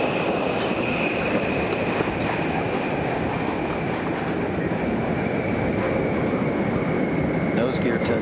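Space Shuttle Discovery rolls out on runway 15 at Kennedy Space Center after main gear touchdown at sunset, a steady loud broadband roar of rushing air and rumbling wheels that holds throughout.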